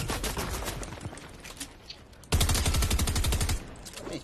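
Video game gunfire rattles off in rapid bursts, with a louder, denser volley about halfway through and no voices.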